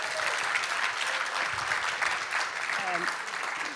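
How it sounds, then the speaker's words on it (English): Audience applause for authors Eliza Reid and Floella Benjamin at an evening book talk, a dense, steady wash of clapping from a full room that holds for the whole stretch, with faint voices mixed underneath. "Another round of applause for our amazing speakers tonight."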